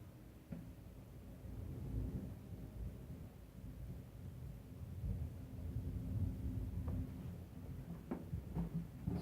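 A thunderstorm with heavy rain gives a steady low rumble and wash throughout. Rolling thunder sits under the rain, with a few sharp cracks near the end.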